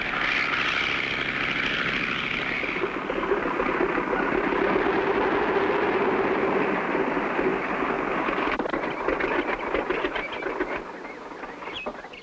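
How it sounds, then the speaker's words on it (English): A propeller airplane engine drones loudly and steadily throughout, with the pitch easing slightly toward the end. "We'll pick up the plane at Joe's hangar and hightail it back"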